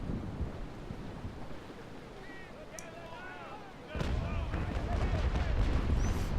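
Frigate cannon broadside in the Naval Action Legends game: a heavy booming burst breaks in partway through and a rumbling roll of shots continues to the end, over wind and sea noise.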